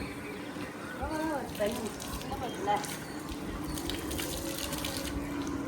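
Water gushes and splashes steadily onto paver-block paving while people talk briefly over it.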